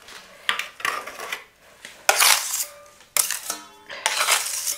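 A metal spatula spreads and smooths wall putty on a wall before wallpapering, with bursts of scraping and rasping strokes separated by short pauses, fairly close and without speech.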